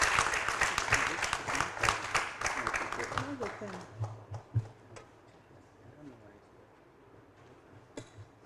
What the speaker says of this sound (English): Let us welcome her with a clap.